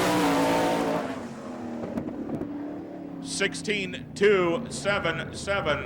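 Sprint race car lapping a dirt oval at the All Star Circuit of Champions in Hartford, Ohio, its engine droning loudly then fading as it passes, while an announcer talks over the track.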